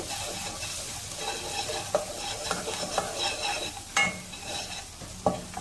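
Onions fry with salt in a pan for egg curry, a soft steady sizzle under a spatula that stirs and scrapes, with a few sharper clinks against the metal, close and fairly quiet.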